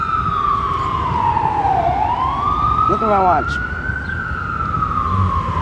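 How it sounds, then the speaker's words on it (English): An ambulance siren wails past, its tone sliding down then rising again in a long sweeping cry, loud and steady against traffic noise, while a person speaks briefly in the middle. "let me wait till this freaking ambulance goes"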